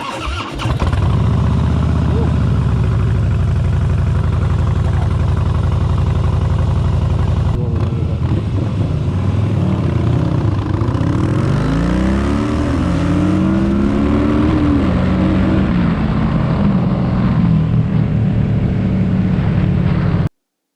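A Harley-Davidson Softail Slim 107 engine cranks and fires, settles into a loud low idle, then revs up and down repeatedly with rising and falling pitch.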